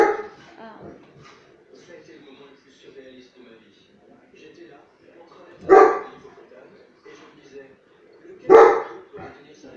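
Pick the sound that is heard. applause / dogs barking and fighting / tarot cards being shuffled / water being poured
dogs barking and fighting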